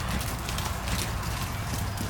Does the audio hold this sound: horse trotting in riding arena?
yes